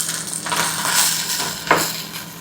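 Steak and potatoes for bistec con papa fry in a pan, a steady close sizzle with a brief scrape of stirring partway through, no voices.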